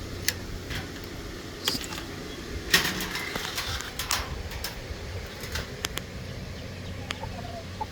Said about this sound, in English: So we got some roosters.